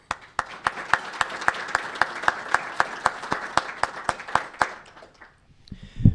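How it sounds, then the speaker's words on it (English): Round of applause from a chamber of commerce round-table audience in Tucson: a few people clapping in a steady, fairly sparse rhythm for about five seconds, then dying away, with a brief noise at the very end. "another round of applause."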